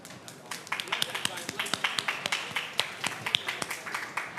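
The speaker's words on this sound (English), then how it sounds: "A huge round of applause for these legends here" A small group at a Formula E press conference after the Jeddah EPrix gives a round of applause for the podium drivers, a sparse, close patter of individual claps that holds steady throughout.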